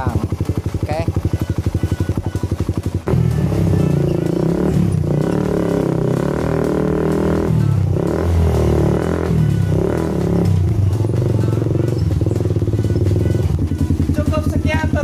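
A Suzuki Satria FU motorcycle fitted with a Kawasaki Ninja R carburetor idles close by. A loud, lumpy engine throb firms up after a few seconds and then holds steady.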